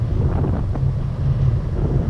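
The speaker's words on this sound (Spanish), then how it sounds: "Andamos en la moto." A three-wheeled Spyder motorcycle is ridden outdoors, heard as a steady low engine rumble buried under heavy buffeting wind noise on the microphone, loud and continuous.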